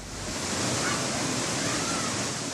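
Flash flood exhibit releasing a torrent of water, about 5,500 gallons in 30 seconds, heard as a loud, steady roaring rush of water that fills the space without pause.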